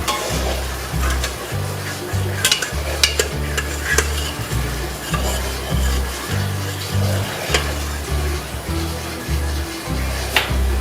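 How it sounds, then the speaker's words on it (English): Pork tenderloin pan in an Instant Pot deglazing with soy sauce, a continuous close sizzle under repeated scraping and stirring strokes with a low rhythmic rumble, no talking. "See, the pan is starting to deglaze nicely."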